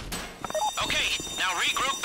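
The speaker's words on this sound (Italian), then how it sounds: "È scattato l'allarme." A bank alarm rings during a Pacific Standard bank heist in GTA V Online. It is a continuous high, ringing tone running under excited voices and busy game sounds.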